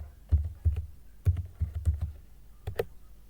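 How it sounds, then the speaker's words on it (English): Several keys are tapped on a computer keyboard in short bursts of close, distinct clicks with small gaps between them. No one speaks. "So type EasyBCD."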